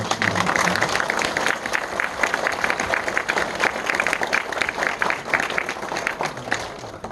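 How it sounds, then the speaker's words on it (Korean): Congregation applause at a pastor's installation service in a Korean Presbyterian church: steady, dense clapping from many people that fills the room evenly for about seven seconds. "박수"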